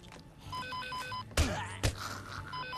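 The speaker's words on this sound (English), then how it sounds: "Let me answer this phone." Phone ringing in the video game Dead Rising 2, a repeating electronic ringtone of short melodic beeps, interrupted by two loud thumping impacts before the ringing resumes.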